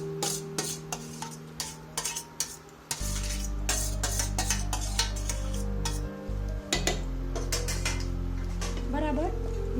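A spoon stirring mashed boiled bottle gourd with spices in a pan over a low gas flame for Gujarati dudhi olo: repeated scraping and clinking of metal against the pan, close and fairly loud over a steady low hum.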